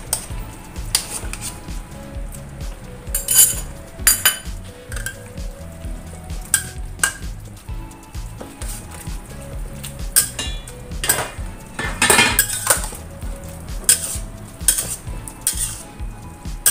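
Chinese cabbage stir-fried with oyster sauce in a pan: a utensil repeatedly scrapes and clanks against the metal while the food sizzles steadily underneath, with no talk.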